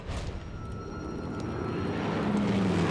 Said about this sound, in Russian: Так, самолеты летают, это хорошо.